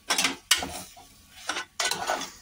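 A spoon scrapes and clatters in a pan while a potato vegetable mixture is stirred, four separate clinking strokes close by with short pauses between them.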